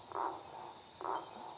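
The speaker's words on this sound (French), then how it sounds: "ça, ce sont plutôt des criquets" Crickets chirp at night in French Guiana, two bursts of shrill trilling standing out over a steady high insect drone, close and fairly loud with no voices.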